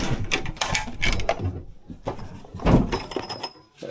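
A hydro trailer door swings open with a series of clunks and rattles, a loud thump near the middle, close by, followed by a faint high whine.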